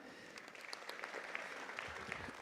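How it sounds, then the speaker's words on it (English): Audience applause at a graduation ceremony, soft and distant, a steady low patter of many hands with a few sharper claps near the end. "Ladies and gentlemen, a round of applause for Miss Bibiana."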